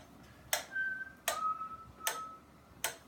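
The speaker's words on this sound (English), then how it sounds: "I can do this again with a metronome." A metronome ticks at 80 beats per minute, four evenly spaced sharp clicks against a quiet background, with faint sustained tones drifting between the ticks.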